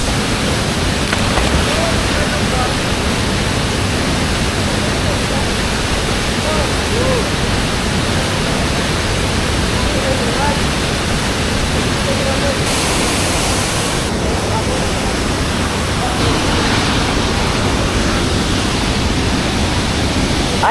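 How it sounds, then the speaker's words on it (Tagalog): Tangadan Falls in La Union, a waterfall whose steady, loud broadband roar of falling water fills the whole stretch without a break, with some faint voices mixed in. "At ito yung ating Tangadan Falls."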